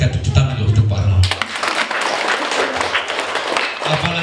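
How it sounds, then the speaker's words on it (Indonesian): At a Catholic primary school farewell for retiring teacher Pak Arnold, a speaking voice gives way to a burst of audience applause, a dense clapping wash that carries on steadily for several seconds. "mari kita tepuk tangan untuk Pak Arnold"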